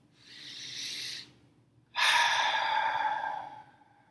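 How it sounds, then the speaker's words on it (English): A slow, deep breath taken close to the microphone, a soft airy inhale followed after a short pause by a longer, louder exhale, with nothing else heard. "Take a deep breath."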